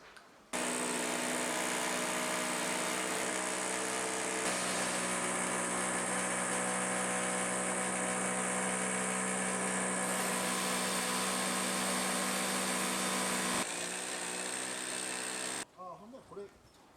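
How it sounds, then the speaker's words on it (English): A loud, steady concrete drill roars continuously for around thirteen seconds up close, its pitch briefly shifting, then cuts off abruptly. "This must be for drilling through concrete walls."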